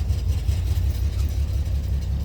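An engine idles roughly nearby, its low exhaust rumble uneven and pulsing with irregular stumbles like a misfire.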